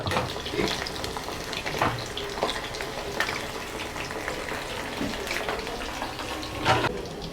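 Jackfruit kebabs frying in hot oil give a steady, close sizzle with watery crackles and occasional louder pops, with no voices over it.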